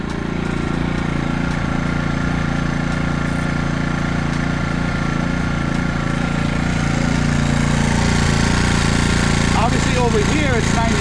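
An AIVOLT 4300W gas-powered portable inverter generator runs steadily with its side panel fitted back on, a loud, even engine drone filling the whole clip, heard from close by.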